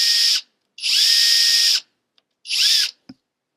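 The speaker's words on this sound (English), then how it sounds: "now I'm going to show you how I drill another hole" A power drill boring a hole in a classical guitar bridge, three high whirring bursts, the middle one longest, with speed dips as the bit bites, close with brief silences and a small click between.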